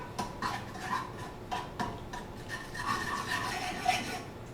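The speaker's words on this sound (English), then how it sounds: "Take our spoon and just stir our butter around." A spoon stirring melted butter, giving soft rhythmic scraping and rubbing strokes with faint metallic ticks, close up and repeating every second or so with no talk.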